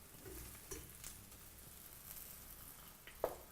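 Beaten eggs for an omelette frying in a pan with a herb mix, a low steady sizzle with a few soft stirring clicks and one sharper knock, quiet and close, no voices.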